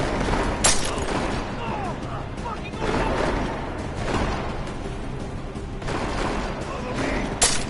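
Gunfire from the video game Deus Ex: Mankind Divided, dense and continuous bursts of shooting with a few sharper cracks standing out, loud and steady throughout, mixed with talk.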